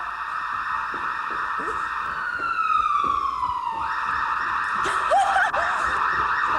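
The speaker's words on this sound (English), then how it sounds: "What's that? Sounds like a police car." A police siren wails loudly and steadily, its pitch sweeping down and then holding, with a brief voice heard near the end.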